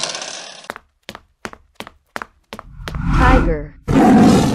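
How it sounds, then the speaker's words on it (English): A dinosaur roar effect, preceded by a series of sharp knocks, swells into a loud rumbling growl followed by a second roar burst. "dinosaur."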